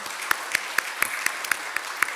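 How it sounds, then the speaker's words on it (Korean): Audience applause during a church worship service, heard as a thin, faint patter of clapping with regular sharp claps roughly every quarter second standing out, fairly distant and with no talking over it. "우리 박수로 한 번 더 격려하도록 하겠습니다."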